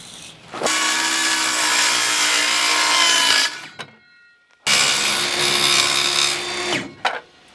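Power saw cutting a sheet of plywood for a jon boat build, two loud sustained cuts of about three seconds each separated by a short pause, the blade whining steadily before spinning down.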